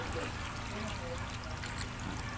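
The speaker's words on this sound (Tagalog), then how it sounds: "magad lang tayo ng tubig para may sabaw-sabaw naman sila" Water poured into a chicken and tomato stew in a pot, a steady broadband trickle and splash running continuously and fairly close throughout, with no talk over it.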